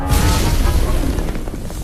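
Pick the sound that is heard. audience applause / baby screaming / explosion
explosion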